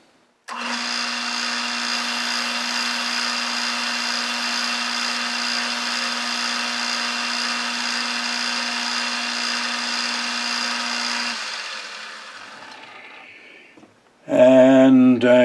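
A lathe taking a facing cut on an annular cutter holder gives a steady, loud, tonal machining whine for about eleven seconds before spinning down, and a voice briefly speaks near the end.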